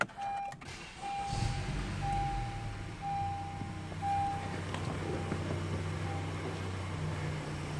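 A car's engine idles after being switched on, a low steady hum with faint ticking and a thin tone above, constant and fairly close.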